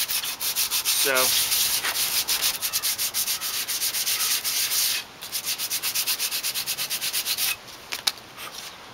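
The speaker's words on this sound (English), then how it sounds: "So, I'm going to try to sand this down" Sandpaper is rubbed by hand along a wooden Bahco axe handle in fast, rhythmic back-and-forth strokes, loud and close, pausing briefly twice; a single short spoken word comes near the start.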